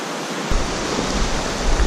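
Fast, shallow water of the Gunpowder River rushes past in a close, full hiss after a brief quieter start, a constant churning flow with no voices.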